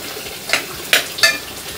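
Curry leaves and mint dropped into a hot pan for vegetable pulao crackle in three short, loud bursts of sizzling with a faint stirring clatter between them, no voices.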